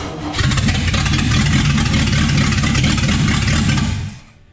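A 1955 Chevy engine cranks and catches, running loud and steady for about four seconds before cutting off abruptly at the end.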